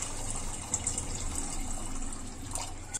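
Water pours steadily over half a kilo of sugar in a pan for gulab jamun syrup, a continuous close splashing fill lasting a few seconds without speech.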